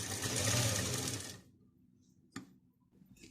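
A sewing machine stitches a kurti in a steady, fast whirring run that stops abruptly partway through. Quiet room tone follows, broken by one small mechanical click.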